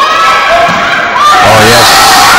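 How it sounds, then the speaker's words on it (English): An excited crowd at a close-fought match shouts encouragement, loud and continuous, with individual yells and cheers rising out of the dense roar. "Crowd are really excited, shouting all sorts of encouragement."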